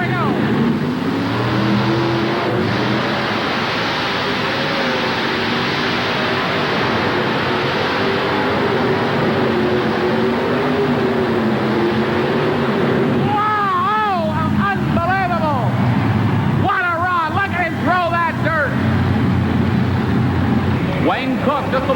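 A pulling tractor roars at full throttle at a 1988 truck and tractor pull in Hampton, Virginia, a loud continuous engine drone with wavering pitch, rising into fierce revving bursts near the end, with an announcer talking over it.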